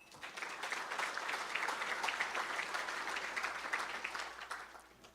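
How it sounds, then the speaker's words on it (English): Dense, steady applause from a large audience at an awards ceremony, many hands clapping together at an even level for about five seconds before easing off slightly at the end. "One more round of applause for Herf Jones for providing the awards for today's event."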